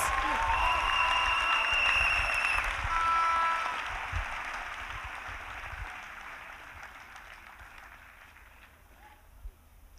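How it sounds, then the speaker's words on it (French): A congregation at a national Bible camp applauding for Jesus, a dense burst of clapping that is loud at first and then thins out and fades over several seconds, with voices heard underneath. "Acclamons pour Jésus."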